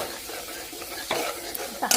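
A spice masala stir-fries in a pan with a pinch of millet flour added for an eggplant dish, a soft sizzle broken by a few scraping stir strokes, louder toward the end.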